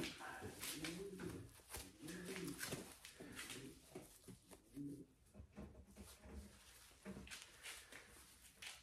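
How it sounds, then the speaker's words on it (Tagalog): A red checker racing pigeon from a Bill Harris line coos in repeated low, soft phrases over steady background hiss and occasional noise, close by. "ito yung unang ibon natin. Isa siyang red checker."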